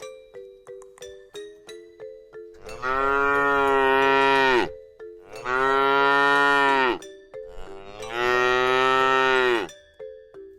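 Three long, loud cow moos imitated by people during a toddlers' class, each drawn out for about two seconds, follow a quick run of bright chime notes.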